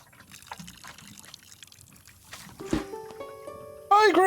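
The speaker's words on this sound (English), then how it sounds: "Oh, add water." Brief pour of water onto a planted seed in a pot of soil in a puzzle game, a short trickling splash followed by tonal chimes, quiet and close.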